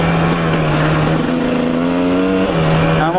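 A car engine drones steadily and close while driving slowly over a torn-up, rough road in cold weather, its tone rising slightly then dipping near the end, with no talking.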